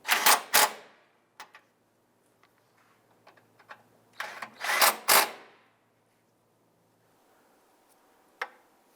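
Radiator support bracket bolts being tightened on a 2011–2017 Honda Odyssey; a few loud, close bursts of ratcheting clicks separated by quiet gaps, with a single sharp tick near the end.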